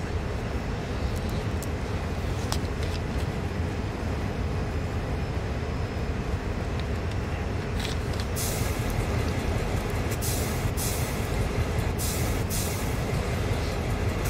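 Train rolling through the Horseshoe Curve in Train Sim World 3, a steady broad rumble of wheels and engine with faint high hiss bursts from the air brakes toward the end, continuous and moderately loud.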